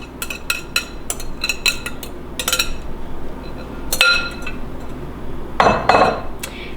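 Six whole eggs whisked in a bowl for an apple dump cake, with a whisk clinking quickly and repeatedly against the bowl in short bursts, close and clear, with a louder rattle near the end.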